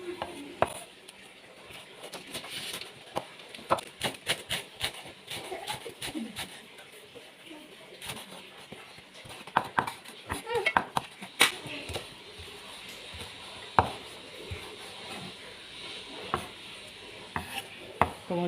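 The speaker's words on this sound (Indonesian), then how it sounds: "Daun bawang kita rajang juga." Spring onions chopped with a knife for an instant-noodle omelette: quick, irregular knife strikes against a board, close and crisp, in uneven bursts throughout.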